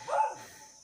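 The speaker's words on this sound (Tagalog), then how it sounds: "grabe rin yung pag-iingay ng mga aso. Parang may kinakahol yung aso" A dog barks once at something, a single short, faint bark heard from a distance against a quiet background.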